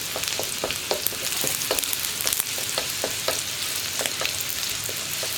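Chopped garlic and spring onion whites fry in hot oil for egg fried rice, giving a loud, continuous close-up sizzle with frequent crackles and quick stirring taps throughout, no voices.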